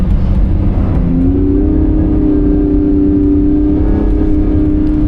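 A Lamborghini engine drones loudly and steadily while the car drifts in Corsa mode with stability control still on, its pitch rising slightly and holding as it revs from inside the car.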